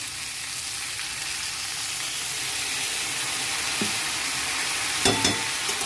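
Ground paste of ginger, garlic, dried chilli and turmeric goes into frying vegetables, giving a continuous close sizzle with a few scraping knocks of stirring near the end.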